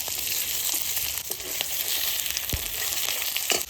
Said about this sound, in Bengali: এই যে রুই মাছ ভেজে নিচ্ছি ঘন্ট করার জন্য